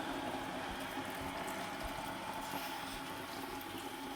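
Water runs steadily into a cooking pot on a gas stove in a home kitchen, a faint continuous rushing and gurgling with no talking.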